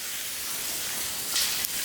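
Water sprays from a shower in a large abandoned Hollywood Hills mansion with a steady, close hiss, briefly louder near the end.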